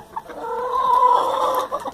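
A brooding, fierce hen clucking close by: a short run of nasal, drawn-out clucks rising to a sustained call in the middle and ending in a couple of quick clucks, with no talking.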